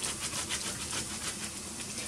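Tomato halves grated by hand against a grater, a continuous rasping scrape with rhythmic strokes, close and fairly loud.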